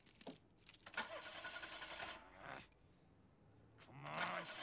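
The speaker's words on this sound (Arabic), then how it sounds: "لا تريد السيارة للاشتغال" A car in GTA IV fails to start, giving a short run of cranking, rattling engine turnover bursts that sputter out, with a faint clink between attempts.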